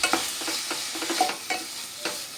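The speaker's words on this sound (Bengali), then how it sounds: "আবারও আমি 2 মিনিট ধরে খুব ভালো করে চিকেনটা ভেজে নেব" Chicken frying in a pan for a chicken Maggi dish, with a steady close sizzle broken by repeated scraping stirs of a spatula, and no talking.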